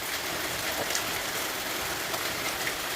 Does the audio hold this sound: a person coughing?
no